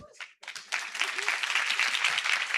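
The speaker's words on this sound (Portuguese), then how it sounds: "uma salva de palmas para eles" Audience applause at a leadership talk breaks out after a brief pause, quickly swelling into loud, dense clapping that holds steady, with a short voice at the very start.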